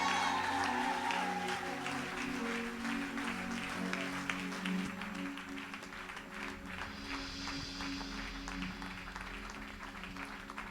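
A church congregation cheers and applauds for a reverend in a steady, loud wash of clapping that carries on throughout, with cheering voices mixed in.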